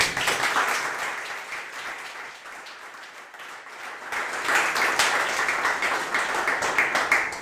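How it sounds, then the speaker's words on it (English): Audience applause at a coding bootcamp demo day, steady dense clapping throughout, dipping slightly in the middle then swelling again, fairly close and without talk. "So big round of applause for them."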